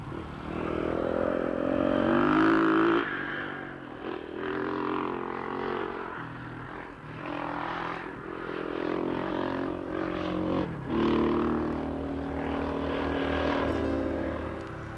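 A 1993 KTM 400 LC4 enduro motorcycle ridden briskly along trails: a steady single-cylinder engine drone that rises and falls with throttle changes and stays loud and close throughout, with no talking.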